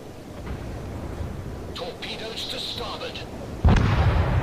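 Naval cannons boom during a World of Warships battle with Furutaka and Emerald cruisers, delivering distant thuds and then one heavy close blast over steady game ambience, with speech alongside.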